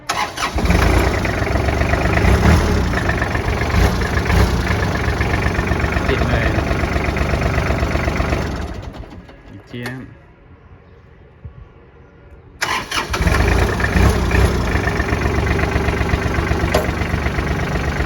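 An excavator's diesel engine with 4,000 hours of use idles loudly and steadily nearby, dropping to a quieter rumble for a few seconds before roaring back to a steady idle.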